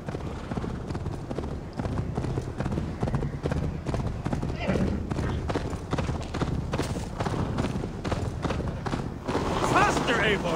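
Horse galloping in the video game Assassin's Creed Valhalla, steady rapid hoofbeats with an occasional whinny, running under shouted character dialogue and game sounds throughout.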